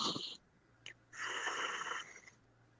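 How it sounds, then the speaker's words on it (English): Deep, slow breathing in and out during a relaxation exercise, with a short breath, a brief intake and then one longer loud exhale, close and clear with no talk. "Breathe in and out 3 times."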